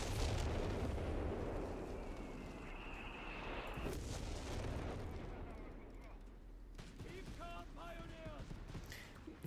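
Mortar fire in Company of Heroes 3: heavy, rumbling artillery booms roll beneath continuous battle noise, with a commentator talking over the fighting.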